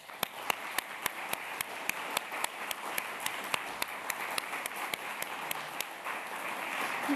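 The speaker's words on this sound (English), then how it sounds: "Applause, please." Audience in a university lecture hall applauding, with a steady patter of many hands and a few sharp individual claps standing out, moderately distant.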